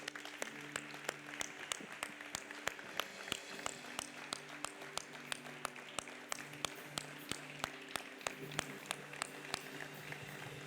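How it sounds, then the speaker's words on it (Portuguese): A congregation at a Sunday evening church service claps, heard as sparse, rhythmic, fairly faint hand claps over a low sustained organ or keyboard tone, with no talking. "Vamos dar uma salva de palmas para Jesus?"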